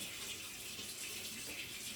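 Water runs steadily from a kitchen tap while food is rinsed to wash off starch, a soft continuous hiss and splash lasting about two seconds, faint and close with no talking.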